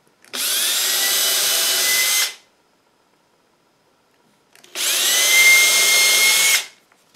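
A cordless power drill driving screws into machine badge labels: two separate bursts of high whirring, each about two seconds, close and loud with silence between.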